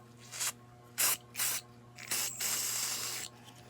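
Gun Medic rust treatment is sprayed onto a firearm in close, hissing bursts: three short squirts, then a longer sustained spray, with quiet pauses between.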